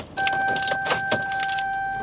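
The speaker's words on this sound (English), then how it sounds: "Okay, here goes traffic." Cars pass along the I-5 highway, a steady rush of road traffic with a few swelling drive-bys, heard close and fairly loud with no talk over it.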